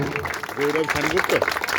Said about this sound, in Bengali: ওদের দুজনের জন্য একটু জোরে হাততালি